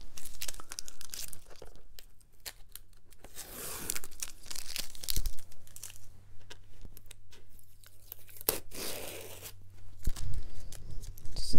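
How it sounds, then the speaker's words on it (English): Masking tape is peeled off a watercolor winter landscape painting, producing a series of close, crackling tearing and ripping strips with brief pauses between pulls. "we'll just peel off this tape and reveal our masterpiece"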